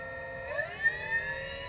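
An electric propulsion motor, built as a 100cc-equivalent system, spins slowly at around 1300 RPM, giving a steady tonal whine that rises slightly in pitch partway through, close and alone with no talking.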